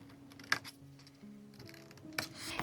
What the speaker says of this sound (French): je vais couper en biais